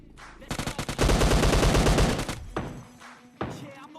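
Rapid automatic gunfire from a battle royale game erupts loudly in a dense burst, followed by a few scattered single shots and game sounds, with no speech.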